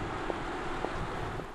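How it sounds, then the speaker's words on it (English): Tire roar and wind rush from a silent Audi R8 e-tron electric supercar, a steady broadband hiss and rumble with no engine note and a few faint soft thumps. "Just tire and wind noises."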